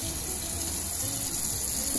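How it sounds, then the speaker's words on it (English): Water pours and gushes steadily out of a pot of cooked tapioca pearls as it drains, a close, continuous splashing rush with no talking. "Once most of the water is drained, you're gonna leave just a little bit of water still left in with the tapioca"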